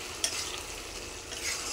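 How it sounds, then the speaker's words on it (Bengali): Squash pieces frying in a pan get stirred, a quiet continuous sizzle with one brief scrape of a spatula near the start, faint and close with no voices. "কদুগুলোকে নেড়ে নেব।"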